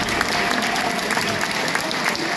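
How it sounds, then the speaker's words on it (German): A carnival-club audience in Berrendorf claps for the Erftmariechen majorette dancers, a dense, even wash of applause that stays loud and steady from start to finish. "Einen großen Applaus für unsere Mariechen."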